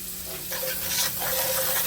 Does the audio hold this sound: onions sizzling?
yes